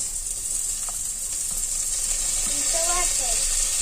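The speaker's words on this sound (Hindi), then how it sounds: "थोड़ा प्याज को हम सौते करेंगे।" Onions sauté in a pot for macaroni soup with a constant bright sizzling hiss, close and even, and a few faint scraping touches near the end.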